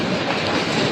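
A single-coach train on the Himalayan Railway rolls past with loud, close rumbling and wheel clatter in one brief continuous burst.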